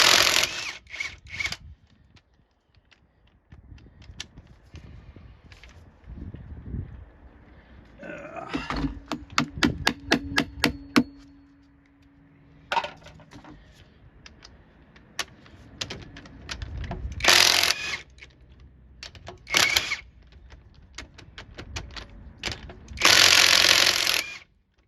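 Impact wrench fitted with a regular 12-point socket working on the lug nuts of a Chevy Express cargo van during a brake job, in several loud rattling bursts of varying length separated by quieter pauses and shop noises.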